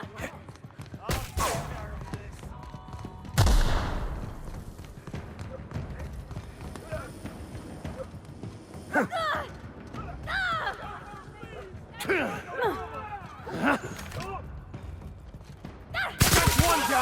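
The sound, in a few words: gunfire in the video game The Outer Worlds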